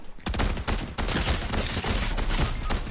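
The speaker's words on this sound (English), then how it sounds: "this guy just shoot me with a Cobra DMR" Rapid Cobra DMR gunfire in a video game, a loud, close burst of repeated shots packed tightly across the whole stretch.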